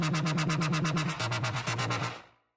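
A synth wobble run through a Reason vocoder set to equalize, sounding as a loud, rhythmic pulsing buzz with rapid repeated bursts and a shifting low tone, then fading out near the end.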